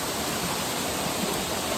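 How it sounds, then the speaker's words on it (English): A waterfall in the Central Highlands of Vietnam pours with a dense, continuous hiss and rumble, steady and fairly close, with no voices over it. "This is the first waterfall."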